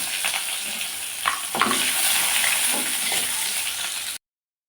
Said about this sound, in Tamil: கடுகு போட்டுக்கலாம். ஒரு கொத்து கருவேப்பிலை போட்டுக்கலாங்க. கட் பண்ணி வச்ச ஒரு வெங்காயம் போட்டுக்கலாம்.